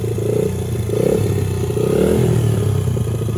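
A 2005 Honda 80cc dirt bike engine runs loud and close, its low buzzing note rising and falling as the rider lets out the clutch and pulls away in first gear.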